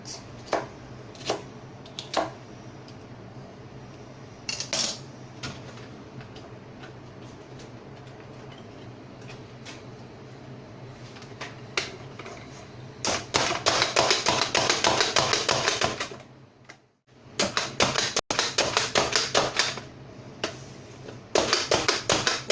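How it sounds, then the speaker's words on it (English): A knife taps against a cutting board as celery is minced for beef lasagna: scattered single chops at first, then bursts of rapid, rhythmic chopping, with brief pauses between them. "We are almost done mincing the celery, chopping the celery."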